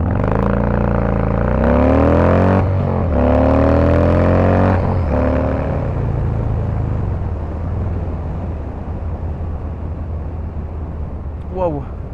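A Harley-Davidson Fat Boy 114 motorcycle launches from a standstill toward 100 km/h, its loud close engine rising in pitch through several gear changes before settling into a steady roar that fades slightly.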